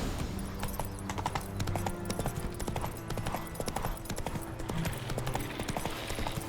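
Steady rhythmic clip-clop of a horse's hooves trotting in The Witcher 3, continuous and fairly close over a game soundscape, with no talking.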